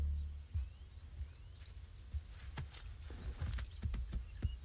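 Horse hooves clop in the video game Assassin's Creed 3, a faint, irregular series of soft hoof falls that grows slightly denser toward the end, with no talk over it.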